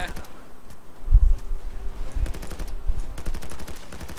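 Gunfire in the Payday 2 video game: bursts of shots crackle through the clip, with heavier impacts in the middle and a steady, moderately loud layer of game noise and chatter throughout.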